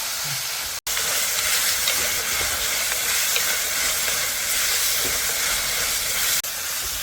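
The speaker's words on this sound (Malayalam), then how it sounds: "ഇനി നന്നായിട്ടൊന്ന് വഴരട്ടെ. എന്നിട്ട് നമുക്ക് സ്പൂണും കൂടെ ഇട്ട് ഒന്ന് വഴറ്റി എടുക്കും" Tomatoes and green chillies sautéing in a pan on the stove give off a steady, loud sizzle and hiss with no talk, broken once by a brief gap near the start.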